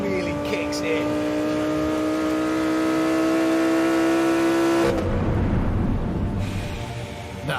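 A Lamborghini Huracan V10 engine wails up through rising pitch, loud and close, then drops off into a rougher, lower rumble.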